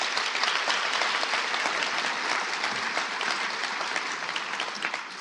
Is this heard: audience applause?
yes